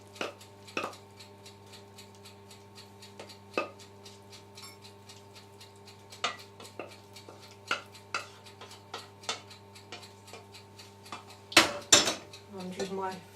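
Flexible spatula scraping cheese sauce out of a pan, a series of sharp scattered clinks and scrapes against the metal, close and spaced out, with a louder cluster of rubbing scrapes near the end.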